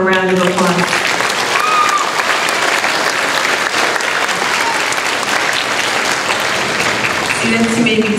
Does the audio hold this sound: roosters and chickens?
no